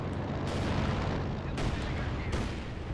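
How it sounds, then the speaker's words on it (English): A heavy mortar barrage in Company of Heroes 2 lands as a dense, roaring rumble, with three sharper blasts bursting through in quick succession over continuous battle noise. "Heavy mortar is coming down, assuming from the artillery field officer that called in the barrage."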